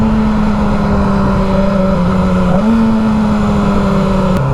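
A voice mimics a revving car engine, a sustained buzzy drone that holds steady, dips briefly and then climbs back up, loud and close with no other talk.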